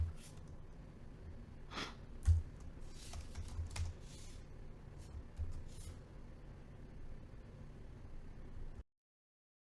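Computer keyboard keys tap in short irregular bursts while code is written in Xcode, quiet and close, with soft breaths between them and nothing else prominent.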